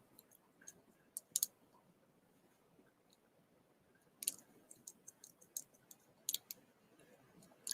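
Scissors cut hair at a slight slope in a quiet room, giving faint, sharp snips that come singly and in short clusters.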